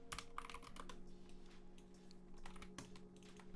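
Computer keyboard typing with mouse clicks during music software work, a quick irregular run of soft close keystrokes over a faint steady hum, no talk.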